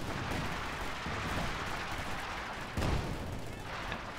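Howitzer artillery in Company of Heroes 2, a dense rumbling barrage of distant booms and blasts with one heavier thump near the middle, steady and loud throughout.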